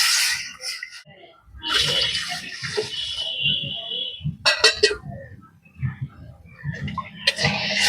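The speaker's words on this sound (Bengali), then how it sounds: "দু বাটি মেপে জল দিয়ে দেবো" Water splashes into a pot during preparation of a carrot sweet, in a few uneven bursts of pouring with quieter kitchen handling and faint voice-like murmurs in between.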